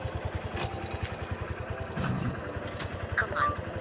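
A motorcycle engine idles with a rapid, even low putter, close to the microphone, with a brief rougher burst midway and faint clatter toward the end.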